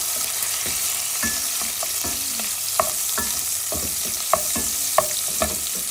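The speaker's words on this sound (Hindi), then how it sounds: "2 हरी मिर्च और करी पत्ता डाल देंगे। इसको अच्छी तरह से इसको फ्राई कर लीजिए।" Green chillies, bay leaves and curry leaves fry in a pan over medium heat for butter chicken, giving a steady hiss with spoon scrapes and clinks. A few louder knocks against the pan come through, and no one speaks.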